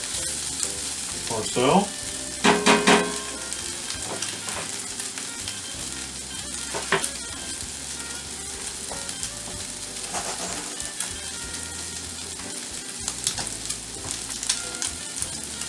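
Pork with onions and peppers frying in a pan, a steady close sizzle broken by scraping and clattering stirs, especially early on; someone speaks briefly over the cooking.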